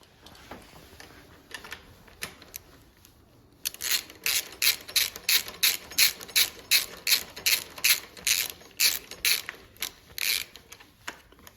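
A ratchet with a 12mm socket tightens the taillight mount bolts on a 2024+ Honda CBR/CB 650R. After a quiet start comes a close run of sharp, evenly spaced clicking bursts in a brisk, regular rhythm.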